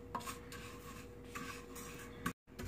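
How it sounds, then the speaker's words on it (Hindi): A spoon stirs and scrapes ingredients roasting in a pan, giving soft, repeated rasping strokes in a quiet kitchen with no talk. "चम्मच चलाते रहें ताकि सारी तरफ से अच्छी तरह रोस्ट हो जाए।"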